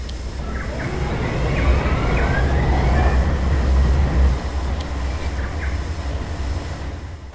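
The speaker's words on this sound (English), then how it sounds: "Let's park our train into the yard." A train pulling into a rail yard rumbles steadily nearby with a low, continuous roar and faint metallic squeals from the wheels, no voices.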